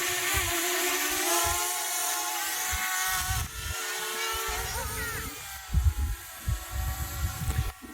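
A small FPV drone's high-pitched electric whine hums steadily at a distance, shifting pitch slightly, with some low rumbling bumps near the end.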